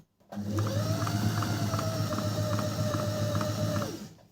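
A Brother Boutique 37 sewing machine running after servicing gives a steady, close mechanical whir with a fast rhythmic needle tick for about three and a half seconds, starting and stopping cleanly.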